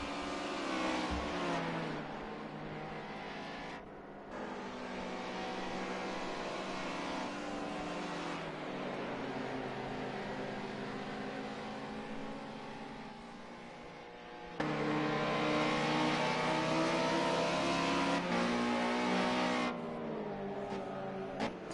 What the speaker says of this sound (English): Now the BMW wants to get past the Ford here.